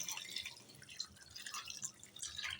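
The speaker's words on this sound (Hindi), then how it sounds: "इसके अंदर पानी डाल लेना है" Water poured into a pot of finely chopped spinach, a light irregular patter of drips and splashes, fairly quiet and close, with no talk.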